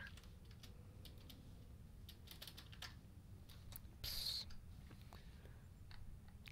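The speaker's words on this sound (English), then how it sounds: "I can't type tonight, apparently." Typing on a computer keyboard produces irregular, faint clicks and taps spread across a steady low background hum, with a brief brighter burst midway and no speech.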